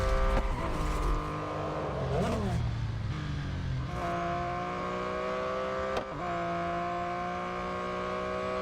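An Acura NSX race car in Real Racing 3 roars along with a sustained high engine tone that rises through gear shifts, with brief tire squeal, loud and steady throughout.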